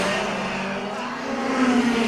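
Racing cars driving in a Fast and the Furious video game, a dense steady roar of engines with a rising, revving whine toward the end, loud and continuous.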